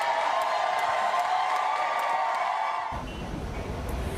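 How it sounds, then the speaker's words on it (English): A room erupts in applause and cheering after a city council vote, a dense, steady roar of clapping that cuts off abruptly near the end, leaving a duller room sound. "You can hear the room erupting in applause following last night's historic 7-1 vote."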